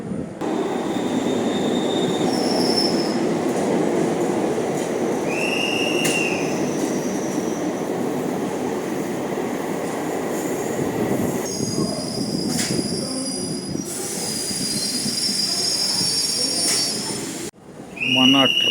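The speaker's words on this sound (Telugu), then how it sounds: "మన ట్రైన్ అయితే వచ్చేస్తుంది." A Hussain Sagar Express train pulls into platform 2 at Begumpet railway station in Hyderabad. Steady rumbling and loud wheel squeals ring out over a curve for most of the clip, with a few horn-like tones layered on top.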